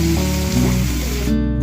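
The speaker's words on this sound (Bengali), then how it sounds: "পেঁয়াজ টমেটো ভাজা হচ্ছে," Onions and tomatoes frying in oil for a pomfret fish curry, a steady loud hiss and sizzle running through the whole stretch, close to the pan with no talk.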